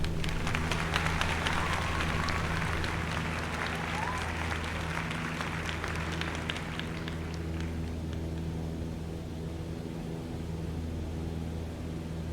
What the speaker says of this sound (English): An applause for Shibo.